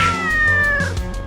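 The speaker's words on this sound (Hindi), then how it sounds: "पकड़ो इस बिल्ली को" A cat meows loudly and close up in a short, drawn-out call with a slight yowling edge, heard alone without any talking over it.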